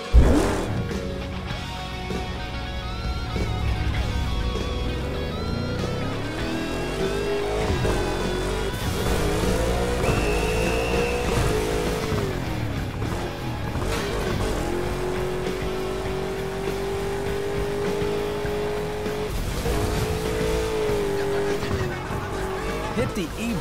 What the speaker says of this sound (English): Hold the accelerator to fire up the engine.